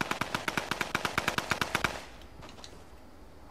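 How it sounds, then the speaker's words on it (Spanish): Rifle gunfire in a video game rattles off as a rapid, evenly spaced burst of about fifteen loud shots, then cuts out. Fainter, more distant shots follow over a low background. "Ya cuando se empiezan a disparar con sus fusiles es como que ya están cerca."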